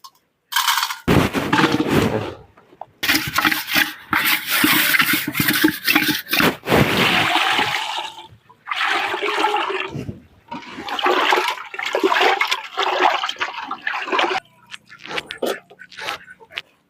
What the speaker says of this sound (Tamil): நல்லா உப்பு போட்டு நல்லா அலாசி எடுத்துக்கணும்